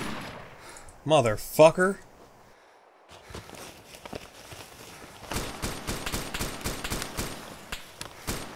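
Gunfire in Arma 2 DayZ Epoch: a couple of sharp shots early, then a run of rapid, evenly spaced rounds from mid-distance, with a man swearing in between.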